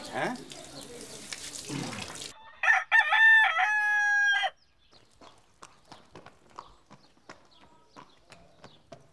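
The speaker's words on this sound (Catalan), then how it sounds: "Aquests cavalls que tinc els tinc de molt petits" Horses' hooves clip-clop in a steady, fairly close rhythm of sharp knocks, following a rooster's loud crowing and some earlier talk and noise.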